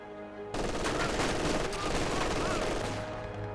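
Machine guns firing in Company of Heroes 2, a dense rattling burst of rapid gunfire that starts abruptly and continues steadily, with a voice talking faintly underneath.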